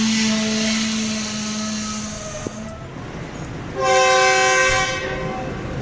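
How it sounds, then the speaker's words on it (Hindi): Green Line Express train pulling out of Chaklala station, its horn sounding a long steady tone that cuts off, then a second loud, rich blast a moment later over rumbling rail noise. "दो मिनट के स्टॉप के बाद 6 डाउन चकलाला से रवाना हुई।"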